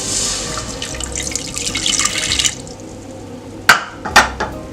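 Water splashes and trickles into a bowl of apple crumble filling with sugar and cinnamon, a bright continuous pour followed by a few sharp clinks and knocks close by.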